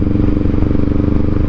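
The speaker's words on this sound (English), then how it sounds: "But his new exhaust sounds fantastic." Honda Rebel 500 motorcycle fitted with Brothers slip-on exhaust, idling or running steadily with a deep, continuous low rumble that stays close and loud throughout, with no one speaking.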